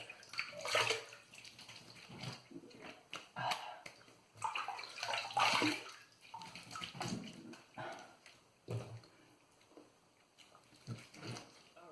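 Tap water running and splashing in a bathroom sink while a Razorock GC68 safety razor is rinsed after a shave, with soft irregular splashes and gurgles, fairly quiet and close, without talking.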